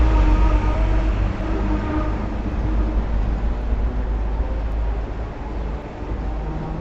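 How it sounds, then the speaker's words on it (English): A tram crossing Hong Kong, heard from on board: a loud, continuous low rumble with rattling carriage noise that holds steady throughout, with no voices. "we crisscross across the city on a tram"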